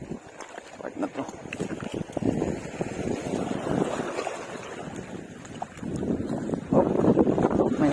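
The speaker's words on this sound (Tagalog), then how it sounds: "Oh, may hangin." Wind gusts buffet the microphone at a fishing shore during shore casting, a steady broadband rumble that swells louder toward the end, with a voice speaking over it.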